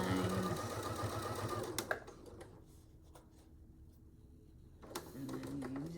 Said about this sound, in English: Back stitch a couple times.